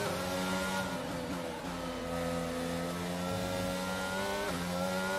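An F1 car in the racing game F1 22 idles at super low revs, a steady, moderately loud engine drone with slight pitch shifts and no talking.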